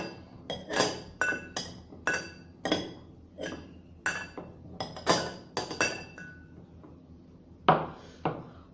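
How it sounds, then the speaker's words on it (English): Mint leaves being crushed in a glass for a virgin mojito, a run of sharp glassy clinks and knocks in irregular rhythm, close and fairly quiet, with no talk. "4 to 5 mint leaves, just crush it. Okay, and we need to crush it coarsely."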